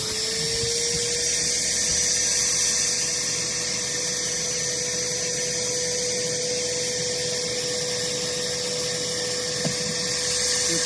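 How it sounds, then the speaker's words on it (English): A steady, high-pitched motorized whine runs continuously with a low hum beneath, a pond vacuum pumping water through a hose and pipe. "waiting for the hose to extract all of the water through this pipe and through this vacuum system"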